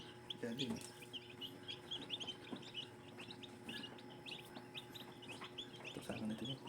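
Newly hatched gamefowl chicks peep and chirp faintly in an incubator, many small high calls overlapping steadily with soft background noise.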